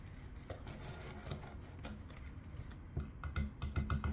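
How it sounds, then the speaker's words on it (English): A whisk stirring flour, baking soda and salt in a bowl for chocolate chip cookies, with quick light clicking and scraping taps that turn into a brisk rhythmic run of sharp clinks near the end, close and fairly quiet. "all you want to simply do is whisk that up"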